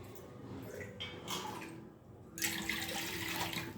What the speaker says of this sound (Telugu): చల్లటి నీళ్ళు తీసుకోవాలి మన పిండి కలపడానికి.